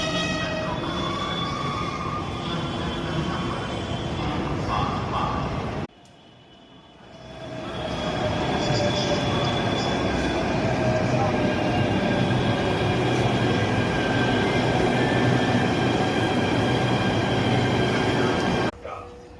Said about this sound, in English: যে মেট্রো আসছে। ঢুকে পড়েছে, হ্যাঁ ঢুকে পড়েছে।